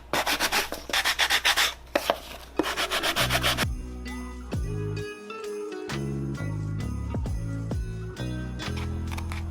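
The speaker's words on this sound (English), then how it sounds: "I'm just gonna take a sanding block and sand the edges down a little bit." A sanding block rubs along the edges of a Dollar Tree craft piece in bursts of quick, close scratchy strokes, then stops as soft background music takes over; no one talks.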